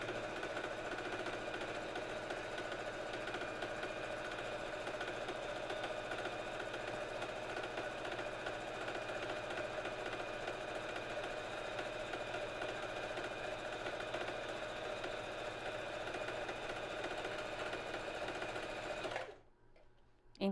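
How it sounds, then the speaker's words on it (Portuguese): A sewing machine stitches a three-step zigzag in a continuous, evenly rhythmic mechanical whir with rapid needle knocking, running steadily up close before stopping abruptly near the end. "E agora eu vou costurar. Olha só, o jeito que a agulha bate, pulando 3 vezes para subir e 3 para descer."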